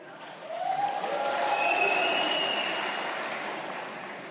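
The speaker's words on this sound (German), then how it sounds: "Klatschen Sie einfach nochmal, dass wir euch hören können." Applause from an audience at an AfD rally in Hamburg, a broad wash of clapping that swells, holds and slowly eases, with faint voices and a drawn-out tone from the hall mixed in.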